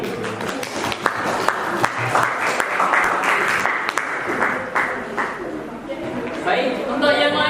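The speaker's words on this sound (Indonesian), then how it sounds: "Berikan tepuk tangan untuk kelompok B" A classroom audience at a Universitas Riau teacher-training performance assessment applauds a presenting group, producing sustained, fairly loud clapping mixed with murmured chatter, with sharper individual claps near the end.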